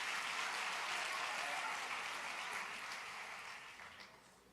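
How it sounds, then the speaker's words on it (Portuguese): A church congregation applauds during a sermon, a dense wash of many hands clapping that starts strong and slowly fades over several seconds, with no voices over it. "Essa igreja é boa mesmo, gente, para aplaudir uma hora dessa."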